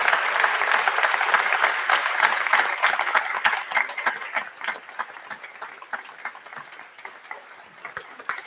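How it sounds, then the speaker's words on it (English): A church congregation at a novena Mass applauds together, many hands clapping in a full, even burst that gradually thins into scattered claps toward the end, with no voices heard. "if you will help me to give him a round of applause"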